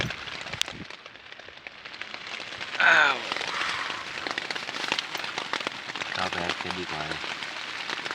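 Rain falling at night in the Salalah mountains, a steady soft patter on surfaces throughout, with people talking over it and a brief louder burst partway through.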